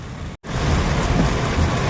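Heavy monsoon rain pounds a car in Gujarat, hard enough that the wipers cannot keep up. It makes a dense, steady, loud roar close by with a brief dropout near the start and no voices.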